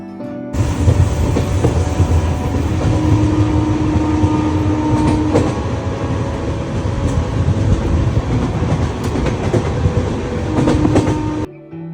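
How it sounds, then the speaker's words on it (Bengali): The Duronto Express pulls in with a loud, continuous rumble and rattle of wheels on rails, carrying on steadily for about eleven seconds before cutting off. "এসে গেছে দুরন্ত এক্সপ্রেস"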